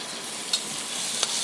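Noodles and potato frying in a pan, with a steady sizzle under the stirring and two sharp scrapes of the spoon against the metal, all close up and with no voices.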